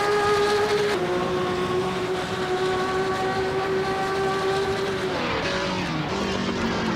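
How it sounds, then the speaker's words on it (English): A race car at a fun race roars with a loud, sustained engine drone that holds steady, then drops in pitch near the end as it passes by, with no talking. "Get some engine noise and flames here in the broadcast."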